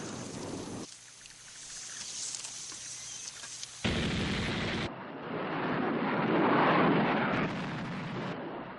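Heavy bursts of Vietnam War anti-aircraft gunfire and explosions roar through the footage, with loud booms, abrupt crackling cuts and a rumbling barrage that swells toward the end, with no voices.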